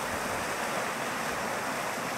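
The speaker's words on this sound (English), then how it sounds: "you can see that there's quite a lot of water flowing." A winter waterfall with ice partly retreated from its crest, sending a steady, broad rushing roar of falling water, continuous and fairly loud with no voices.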